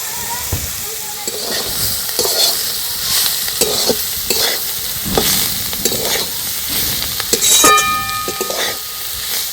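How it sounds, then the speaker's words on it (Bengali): Food is stir-fried in a hot pan just before chicken powder goes in, a loud continuous sizzle broken by repeated scraping and clattering of the spatula against the pan, with no talk. "এটা প্রায় ভাজা হয়ে এসছে। এই অবস্থাতে আমি এখানে চিকেন পাউডারটা দিয়ে দিচ্ছি।"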